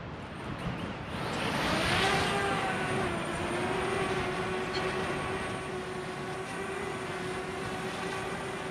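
A DJI Mavic Mini drone flying and hovering outdoors, a steady whining propeller buzz with a high tonal drone that holds close and fairly loud throughout.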